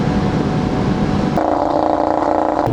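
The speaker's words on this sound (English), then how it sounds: "So let's accelerate right now from 0 to 280 plus." A 2018 Audi RS3 Sedan second-generation facelift accelerates hard, its engine a loud, steady drone that jumps in pitch with a gear change partway through.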